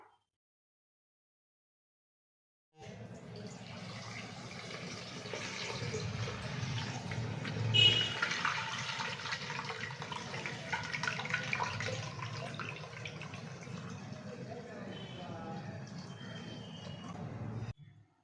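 Rice-strained water pours steadily into an iron kadai, a continuous close splashing stream that runs for about fifteen seconds after a silent start before stopping abruptly.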